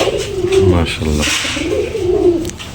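Pigeons at a fancy-breed farm, including Giribaz and Pakistani birds, coo in close, loud rolling calls that repeat through the clip. Someone speaks briefly over the cooing.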